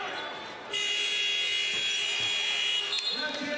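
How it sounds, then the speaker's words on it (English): A long, loud electronic buzzer sounds at the end of a quarter in a JBA basketball game between the LA Ballers and New York Ballers, holding steady for about three seconds over arena crowd noise. "Chris Lacey tried to hit a buzzer beater there."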